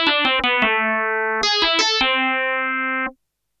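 Harsh, gritty FM synthesizer tone at its strongest modulation: a string of short plucked notes followed by a longer sustained buzzy note, bright and metallic with dense harmonics, played alone and ending abruptly.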